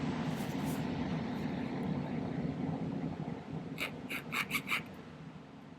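A half-round jeweler's file cuts notches into a metal ring: a run of about five short, bright rasping strokes in quick succession, over a low steady background hum.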